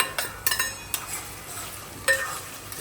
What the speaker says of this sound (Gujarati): બટાકા નાખી દઈશું.